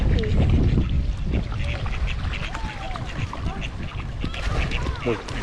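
Several ducks quack in short bursts at a garden pond in Kaneohe, Oahu, heard close by while people talk over the calls.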